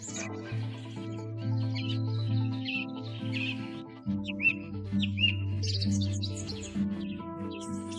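A lilac-breasted roller of the African savanna gives short chirping calls in scattered bursts, fairly faint over a steady musical backdrop.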